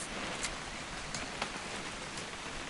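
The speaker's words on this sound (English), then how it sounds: "It's gonna rain the whole weekend, isn't it?" Steady rain falls close by with a constant hiss and a few sharper drops striking a surface, fairly quiet and alone with no voices.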